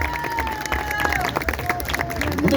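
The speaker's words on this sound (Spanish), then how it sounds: "Fuertes, fuertes aplausos." Audience clapping and cheering for a children's choir, a steady wash of applause with crowd noise and voices throughout.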